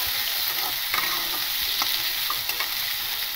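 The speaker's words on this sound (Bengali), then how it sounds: "এবার আমি এর মধ্যে আলুটা দিয়ে দেবো, কেটে রাখা আলুটা। দিয়ে একটু মোটামুটি করে একটু ভেজে নেবো হালকা করে" Cut potatoes frying with spices for chicken singara, a loud continuous close sizzle with occasional spoon scrapes and stirs breaking through.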